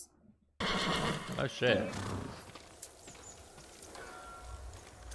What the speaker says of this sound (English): Sir, I think your horse is gonna die.